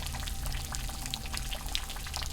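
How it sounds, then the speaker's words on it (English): Small waterfall dripping and trickling out of mossy rocks in the woods, a steady close splashing patter with a constant watery wash beneath it and no voices. "it's another waterfall coming out of the rocks"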